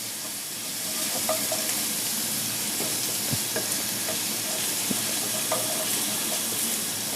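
Ingredients for masoor daal sauté in a pan with a steady, dense sizzle that holds throughout, broken by occasional soft clinks and taps of a stirring utensil, with no voices.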